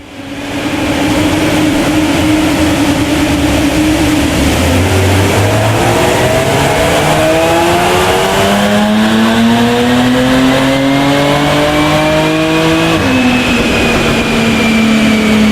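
A Jaguar F-Type V6 strapped to a dyno revs loud and close through a sustained run, its engine note climbing steadily in pitch across repeated gear pulls, then dropping sharply near the end before rising again, with no talk over it.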